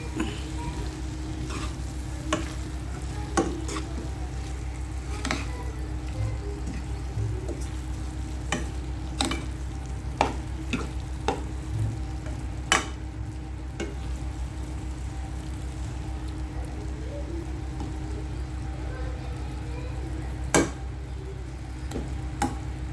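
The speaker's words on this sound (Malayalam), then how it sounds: "നന്നായി ഒന്ന് ഇളക്കി മുട്ടക്കുള്ള മസാല പിടിക്കുന്ന രീതിയിൽ ആക്കി കൊടുക്കാം" Egg biryani masala with coriander leaves frying in a pan, a soft continuous sizzle punctuated by sharp intermittent ticks and clicks of a spoon against the pan, fairly quiet with no speech.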